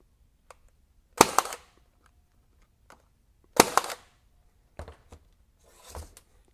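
A RIDGID 18-gauge stapler drives staples into pine with two loud, sharp pneumatic bangs, each followed by a short hiss, then quieter clicks and a softer final shot, spaced a few seconds apart in a quiet room.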